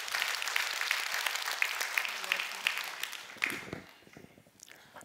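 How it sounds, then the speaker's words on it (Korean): A church congregation claps to welcome three singers, dense applause that fades out after about three seconds into quieter room noise and movement. "여러분 박수를 한번 맞이하실까요?"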